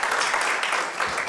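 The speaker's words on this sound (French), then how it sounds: "Je crois que vous pouvez applaudir Jean-Pierre qui le mérite." An audience applauds Jean-Pierre at a cultural gathering, a short burst of dense, close clapping that dips briefly before continuing.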